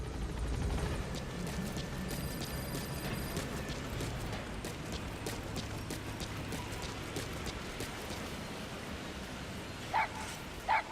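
A puppy, D-Dog in the Metal Gear Solid V video game, gives soft yips and whimpers that sit faintly over steady game ambience, with a couple of brief, louder sounds near the end.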